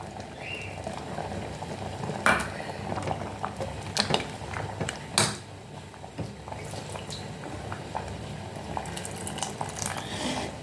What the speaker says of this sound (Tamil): இனி இந்த புளி தண்ணியிலையும் மசாலாலையும் கொஞ்சம் வேக போகுது